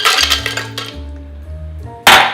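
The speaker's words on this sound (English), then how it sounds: "we're gonna take ice. And we're gonna put it in the blender." Ice cubes clink and clatter as they drop into a blender jar for a sunrise martini, a few sharp glassy knocks with ringing tails, ending in a loud crash of cubes tumbling in together.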